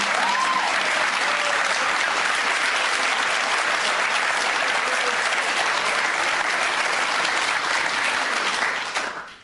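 An audience claps and cheers in steady, dense applause that holds loud for several seconds before tapering off abruptly at the end.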